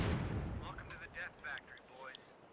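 A mortar firing in the Company of Heroes 2 video game, one deep booming blast that fades out, followed by scattered battle pops and a voice speaking over it.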